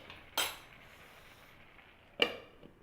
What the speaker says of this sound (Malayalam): നമുക്ക് ഇതൊന്ന് ഇളക്കി ഇതൊന്ന് മിക്സ് ചെയ്തിട്ട് നല്ലതുപോലെ ഒന്ന് അടച്ച് വയ്ക്കാം